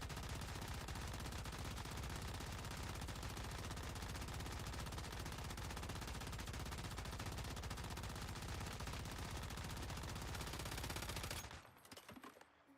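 Sustained automatic gunfire from a gun in the video game Once Human, a dense and continuous rattle of rapid shots for about eleven seconds before it cuts off abruptly into near silence.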